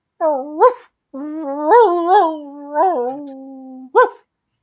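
A man mimics a dog with his voice, producing a short yip, then long whining, howling bark-like cries and a final sharp yelp, loud and close with no other sounds.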